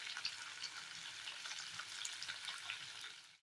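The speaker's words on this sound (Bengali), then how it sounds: "চিকেনগুলিকে এভাবে ভেজে নিচ্ছি" Chicken pieces for butter chicken frying in a pan, a dense, even hiss of sizzling oil with scattered tiny pops, steady and moderately quiet, then cutting off abruptly at the end.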